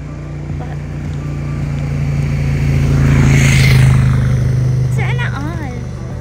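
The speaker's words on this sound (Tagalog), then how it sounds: "May motor na paparating." A motorcycle engine hums steadily, growing louder as it approaches, peaks close by, then begins to fade as it moves on, with faint chirpy sounds near the end.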